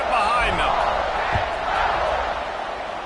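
A football stadium crowd roars steadily at kickoff, a broad, loud wash of cheering that holds throughout with a few sharper shouts near the start.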